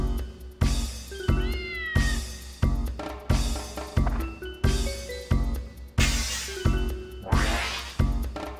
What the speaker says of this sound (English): Stray cat.